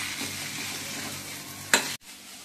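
Marinated prawns and coriander stir-fry in a methi prawn masala, giving a continuous close sizzle with one sharp scrape near the end before it cuts off abruptly.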